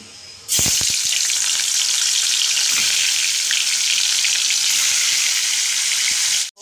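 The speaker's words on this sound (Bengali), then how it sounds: "কড়াই তেল গরম হয়ে গেছে মাছগুলো আগে ভেজে নিই" Pieces of rohu fish frying in hot oil in a wok, a loud steady sizzle that starts abruptly after a brief quiet moment, with a few spitting pops and crackles, then holding full and close to the end.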